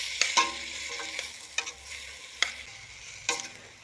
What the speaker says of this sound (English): Give those a stir.